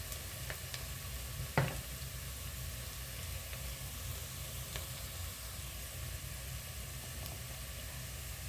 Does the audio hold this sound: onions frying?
yes